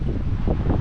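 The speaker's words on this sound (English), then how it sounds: "Windy." Strong wind buffets the microphone at a windy fishing spot beside flooded roads, a steady low roar with gusty surges lasting under a second.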